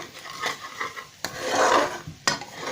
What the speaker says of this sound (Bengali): একটু নেড়ে দিলাম।